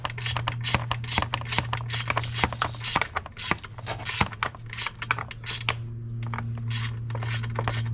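Ratchet clicking in quick, steady bursts while loosening T30 Torx bolts that hold a plastic sprocket cover to aluminium on a BMW F850GS motorcycle, with a low steady hum underneath.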